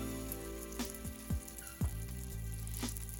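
Meatless shami kababs bound with egg frying in very little oil in a pan on the stove, a soft continuous sizzle broken by a few sharp pops and crackles, with no talking.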